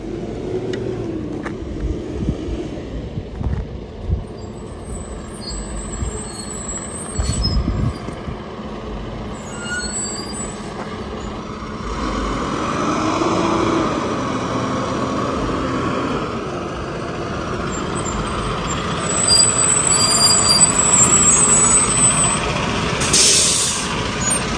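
A school bus pulls up with a rumbling engine, then its air brakes let out sharp hisses near the end. The traffic noise builds gradually and stays fairly close, with no one talking.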